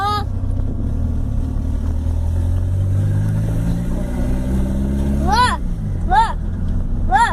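A car engine with a turbo rumbles and revs steadily up close, its pitch rising and falling, with voices talking and calling over it.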